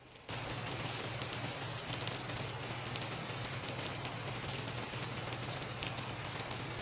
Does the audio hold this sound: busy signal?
no